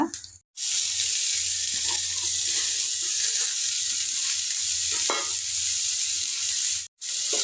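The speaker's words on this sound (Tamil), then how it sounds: "முள்ளங்கியோட பச்சை வாசனை போகிற வரைக்கும் இதை ஒரு ரெண்டு நிமிஷம் போல் நல்லா வதக்கிக்கோங்க" Radish pieces sauté with garlic and lentils in a pan, a close steady sizzle with stirring scrapes that cuts out briefly twice, and no voices.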